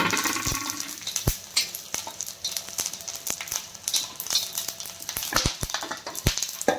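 Cinnamon, bay leaf and other whole spices dry-roasting in a pan for green chicken masala, giving a soft continuous sizzle and crackle with scattered sharp pops and ticks from spices and stirring, close and moderately quiet with no speech.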